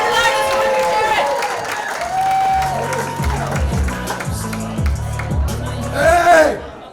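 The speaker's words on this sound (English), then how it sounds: "Let's start the applause! Loud, let's hear it!" Comedy club crowd at the Australian Comedian of the Year 2025 finals applauding and cheering loudly and steadily for the next act, with music playing underneath and a voice rising near the end.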